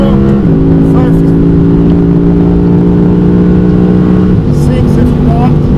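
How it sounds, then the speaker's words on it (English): An Audi quattro engine pulls hard at Goodwood, a loud, close, steady roar that shifts pitch at two gear changes, with a voice talking over it. "Just easing it on the throttle, sliding on all 4 wheels."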